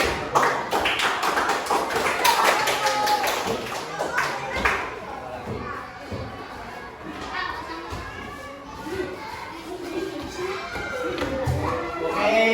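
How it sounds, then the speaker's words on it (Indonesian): Classroom applause for a student group after their presentation: schoolchildren clap in quick, uneven bursts that are loudest at first and then thin out, with children's voices and chatter mixing in as it fades. "tepuk tangan buat kelompok 2"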